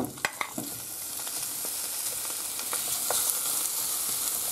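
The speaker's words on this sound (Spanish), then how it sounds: "Ahora freímos bien las costillas." Oil sizzles steadily as pork ribs fry for Valencian baked rice, with a few sharp pops and stirring scrapes near the start.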